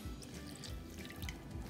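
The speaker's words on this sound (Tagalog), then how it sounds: "And lalagyan ko ng konting tubig." A little water trickling into a cooking pot of sardines with tamarind souring mix, a faint, steady liquid dribble close by with no talk.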